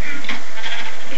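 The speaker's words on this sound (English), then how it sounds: "We have a naked sheep on the loose." A sheep in Minecraft gives a single loud, nasal bleat, wavering and close, filling the short moment alone.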